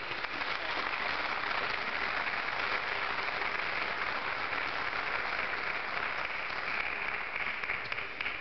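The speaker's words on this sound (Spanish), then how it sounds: "Voy a darle un aplauso a Cristo." A church congregation at Iglesia Principe de Paz in Morristown claps in praise, producing a steady, even wash of applause that holds at constant volume for about eight seconds, somewhat distant and muffled, with no voices standing out.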